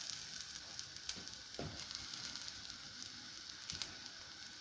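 Onions fry in a pan with ginger and dry spices for a Chinese takeaway-style curry sauce. A faint, crackling sizzle runs steadily, with a couple of low scraping stirs and no speech.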